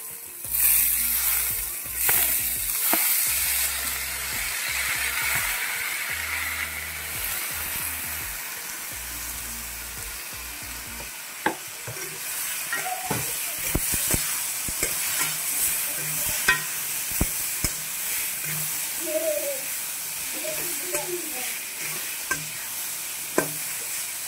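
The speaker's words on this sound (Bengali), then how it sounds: "তো এখন এই যে ধুয়ে রাখা ডালগুলো দিয়ে দিলাম, মসুর ডাল।" Washed masoor lentils hit a hot pan for a dhaba-style dal tadka and sizzle steadily, with close stirring and scraping and sharp clicks of a spoon against the pan, no voices.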